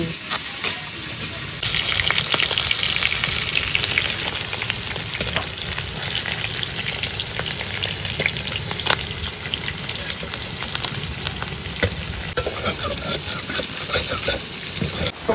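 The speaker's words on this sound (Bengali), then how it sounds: "মাছ ভাজা হয়ে গেছে কিছুটা পুরোটা এখনো ভাজা হয়নি" Large bhola fish frying in a pan, with a loud continuous hissing sizzle and bubbling oil close by, along with some clatter and faint background voices.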